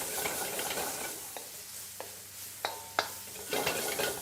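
Thinly shredded cabbage sizzles steadily in a hot pan for yakisoba, with a few sharp scrapes and clinks of stirring utensils against the pan over the constant frying hiss.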